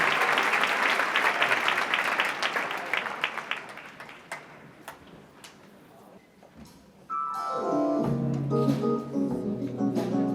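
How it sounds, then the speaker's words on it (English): An audience applauds the house band at a live show in the Aronoff Center, loud dense clapping that thins out and fades over several seconds before music or a voice begins abruptly near the end. "Give them a big round of applause"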